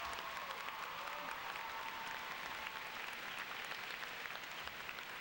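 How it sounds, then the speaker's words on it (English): A crowd at a high school graduation ceremony claps in a steady, even round of applause that carries on without a break and sounds somewhat distant and faint. "If you would please join me in a round of applause."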